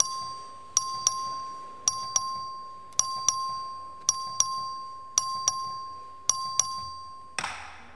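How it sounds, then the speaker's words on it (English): Voting bell in the Texas House chamber, a two-tone ding-dong struck about seven times at a steady pace, each ring left to decay, loud and resonant in a large hall. "Clerk will ring the bell."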